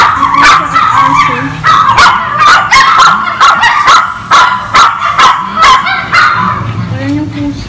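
Several Chihuahuas bark in rapid, repeated bursts close by, with yips mixed in, the barking continuous and loud across the whole stretch.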